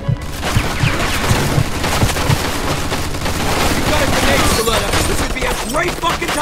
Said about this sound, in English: Machine gun! Watch it!